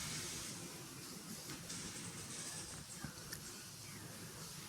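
Cumin seeds sizzle in hot oil with a steady, close hiss and a faint spattering crackle, continuous throughout.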